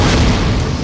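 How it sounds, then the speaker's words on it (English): A German Model 24 stick grenade exploding in wartime combat, one loud, heavy low boom that fills the short moment and rolls off without any break. "The explosion from a German Model 24 stick grenade can blast shrapnel over 200 yards"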